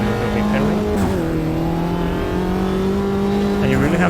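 Race car engine from the Automobilista 2 sim racing game, a Mini Challenge car, holds a sustained high drone with pitch dipping and climbing as it shifts and revs through a corner, loud and continuous.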